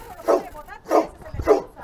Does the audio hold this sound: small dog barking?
yes